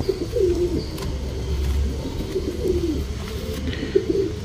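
A female pigeon of a champion racing line coos in a low, rhythmic burble, repeated several times close by against a soft background hum.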